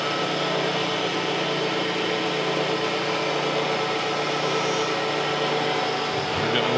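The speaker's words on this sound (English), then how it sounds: "We'll go set this up on the surface plate or on the surface grinder, and we'll grind our next set of angles there." A surface grinder runs steadily as angles are ground on a custom metal threading tool, a loud continuous whine and rushing hum with no breaks and no talking.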